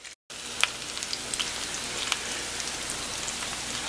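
Okra and squash fry undisturbed in a pan, giving a steady, close crackling sizzle with scattered pops, like light rain, after a brief gap at the start and with no talking.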